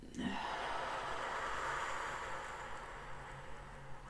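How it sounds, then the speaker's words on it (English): A long, smooth breath out during a yoga session follows a brief sharp inhale, a soft airy exhale that fades slowly over a few seconds, close and quiet. "Take a deep breath in. Long, smooth breath out."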